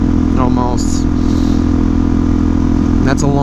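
A motorcycle engine runs steadily at close range with a constant low throbbing drone, while someone talks briefly over it.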